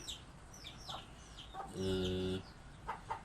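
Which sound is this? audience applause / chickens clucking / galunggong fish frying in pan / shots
chickens clucking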